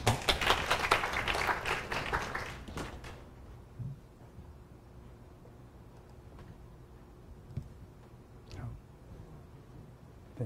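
An audience at a national high school mathematics teaching seminar applauds to welcome the host, a loud burst of many clapping hands that fades after about three seconds into a quiet room with a few faint knocks.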